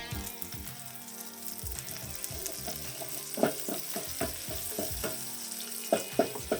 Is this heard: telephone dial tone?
no